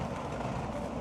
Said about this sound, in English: This is all from the train station.